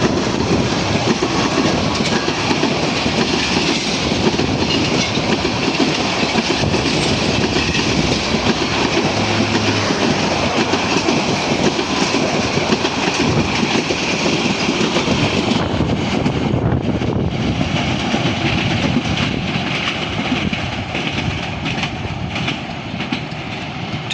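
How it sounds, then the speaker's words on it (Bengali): Lalmoni Express, a Dhaka-bound intercity train, running through Kamarpara station without stopping: a loud, close, continuous rumble with rapid clickety-clack of wheels over rail joints, easing slightly near the end. "দেখতে পাচ্ছেন ঢাকা অভিমুখী আন্তনগর লালমনি এক্সপ্রেস কামারপাড়া স্টেশন থ্রুপাস"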